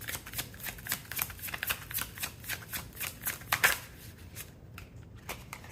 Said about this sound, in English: let's pull some more cards out here for pile number one